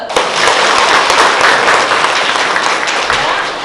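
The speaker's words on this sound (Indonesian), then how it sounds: "Aplaus buat Wike." A classroom of vocational fashion students applauds a classmate with a dense burst of clapping that stays loud and even for several seconds.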